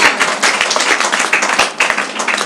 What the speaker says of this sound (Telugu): గట్టిగా చప్పట్లు కొట్టండి ఆ యేసు ప్రభుకి, గట్టిగా చప్పట్లు కొట్టండి ఆ దేవుడికి